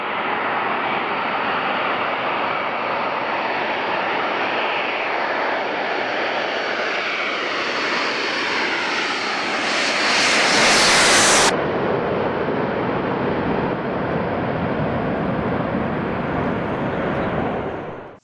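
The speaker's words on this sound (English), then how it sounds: "The arrival of a giant C-17 from Stewart Air National Guard Base in New York State" A giant Boeing C-17 military transport jet from Stewart Air National Guard Base arriving at an Alaskan air base, a loud continuous jet roar that swells as it passes close, then holds steady and cuts off.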